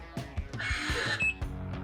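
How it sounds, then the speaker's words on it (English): A short electronic lock-confirmation beep from a Can-Am XMR off-road vehicle sounds amid clicks and mechanical ticking, fairly close and brief. "it will lock and give you a beep to tell you it's locked"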